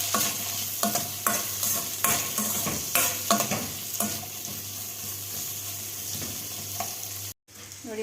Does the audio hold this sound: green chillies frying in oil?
yes